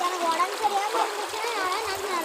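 Rainwater stream from November rain rushing along a channel toward a lake, a steady close splashing and gurgling flow with shifting trickles throughout, faint voices now and then beneath the water.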